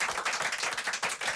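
Brief applause in a French radio studio from readers, listeners and jury members of a literary prize, close, crisp clapping from a small group with no speech.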